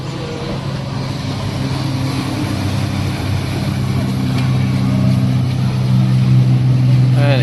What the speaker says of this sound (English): Very fast gold boat going past us now.